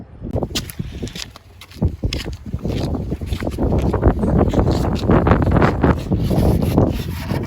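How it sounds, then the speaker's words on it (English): Strong outdoor wind buffets the microphone for the whole stretch, making a loud, continuous rumbling roar with uneven gusts and no clear speech. "Please forgive the wind. It is very windy today."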